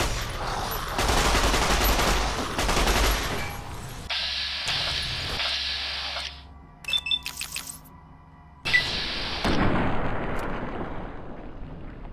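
Gunfire in Fallout: New Vegas, heavy loud bursts of shots and blasts with rumbling booms, broken by a few brief gaps and sharper isolated cracks, then more sustained firing.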